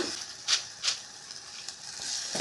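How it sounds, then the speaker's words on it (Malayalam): Gentle stirring of Kashmiri chili, coriander and turmeric powders in a pan, with soft scraping swishes and a faint sizzle coming in a few quiet, irregular strokes. "മുക്കാൽ ടീസ്പൂൺ കാശ്മീരി മുളക് പൊടി മുക്കാൽ ടീസ്പൂൺ മല്ലിപ്പൊടി കാൽ ടീസ്പൂൺ മഞ്ഞൾപ്പൊടി ഇതെല്ലാം കൂടി നന്നായിട്ട് മിക്സ് ചെയ്യാം"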